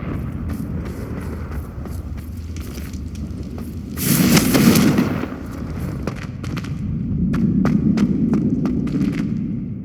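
Confringo fire blast spell cast in Hogwarts Legacy: a bright whooshing burst of flame cuts through a steady rumbling background, surrounded by scattered crisp clicks and thuds.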